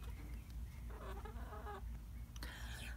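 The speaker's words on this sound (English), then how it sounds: "So I have two roosters in this coop" Chickens and two roosters cluck and call inside a backyard coop, a steady murmur of low clucks with a brighter burst of calls near the middle and a sharp squawk toward the end, close and continuous.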